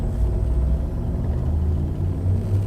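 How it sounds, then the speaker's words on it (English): A frameshift drive charging aboard a ship in the space game Elite Dangerous, a steady deep rumbling hum that holds at an even, fairly loud level throughout with no voices over it. "Frameshift drive charging."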